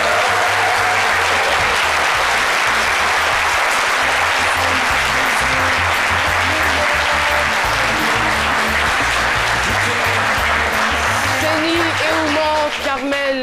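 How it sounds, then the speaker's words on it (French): A television studio audience applauds loudly and continuously, a dense wash of clapping that fills the room and starts to thin out near the end. "Seni Eouman Carmel, que je vous demande d'applaudir très fort"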